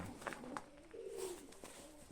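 Pigeon, a Budapest or Zamość breed in a breeder's loft, giving a soft low coo with faint bird calls around it, quiet and close.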